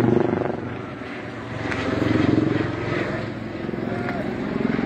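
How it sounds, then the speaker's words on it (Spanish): Two helicopters fly over the Senkata plant in El Alto, Bolivia, and their steady rotor drone pulses and swells over a dense background of crowd noise and shouting. "La planta de Sencata están sobrevolando aquí 2 helicópteros."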